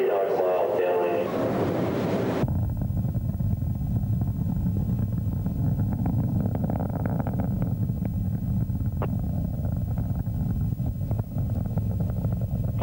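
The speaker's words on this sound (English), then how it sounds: "3 main engines on Columbia working well at full throttle." Space Shuttle Columbia's three main engines at full throttle during launch, a loud, steady broadband roar with low rumble and wind-like buffeting that continues unbroken, following a brief burst of radio-style talk at the start.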